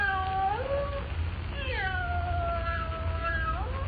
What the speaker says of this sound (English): With the cat meowing plaintively somewhere in the musty darkness of the room, Jimmy begs Perry White not to call Lois.